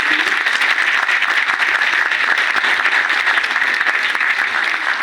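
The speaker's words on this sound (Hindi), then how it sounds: "एक बार कुलदीप सर और तरुण भाई के लिए जोरदार तालियां।" A seminar audience in a hall bursts into loud, continuous applause, dense, steady clapping filling the whole stretch with no voices over it.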